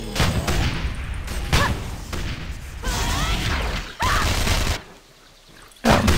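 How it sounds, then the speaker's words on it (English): Time bomb skill going off in the online RPG TERA: a string of loud bursts, crashes and whooshing impacts amid game effects, with a brief quiet gap before a final hit. "Now let's do the time bomb"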